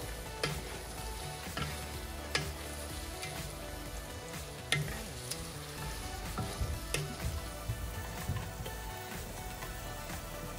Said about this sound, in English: Then let's saute.